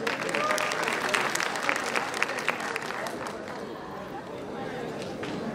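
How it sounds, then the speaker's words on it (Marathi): Audience applause at the NMMC 32nd anniversary celebration, dense sustained clapping from a large crowd with crowd babble mixed in, steady and fairly loud, easing slightly near the end. "प्रेक्षकांची संख्या वाढलेली आहे पण टाळ्यांचा आवाज मात्र अजूनही कमी येतोय."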